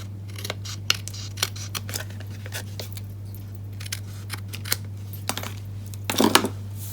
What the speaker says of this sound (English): I'm just going to turn this over and cut these edges off.